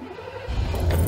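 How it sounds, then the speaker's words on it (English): A Ford Econoline 250 camper's 5.8-litre V8 cranks and catches halfway through, swelling from a quiet cabin into a loud, low, rumbling engine note close by. "You turn the ignition on."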